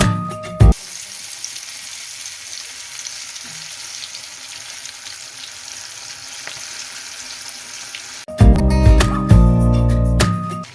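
Japanese-style chicken pakoda frying in hot oil, a steady soft sizzle through most of the stretch, then louder clattering bursts near the end.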